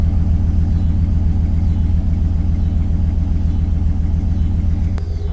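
A Chevrolet OBS K1500 truck engine idles smoothly and steadily, a deep, even rumble with a constant throb and no stumbling, close by.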